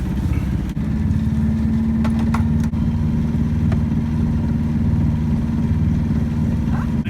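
A boat motor hums at a steady, loud drone throughout during a sailing passage from Quebec to Rimouski, with a few faint knocks and clicks on top.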